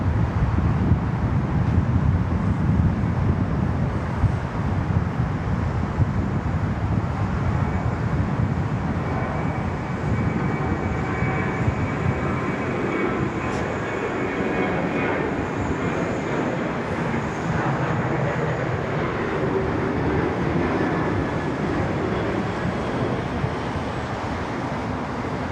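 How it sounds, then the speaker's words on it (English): A Velocity airliner takes off from runway 34 left at Sydney Airport, its engines a loud, steady, broadband roar that holds for the whole stretch, with wind buffeting the microphone and no talking. "Velocity getting underway here on runway 34 left."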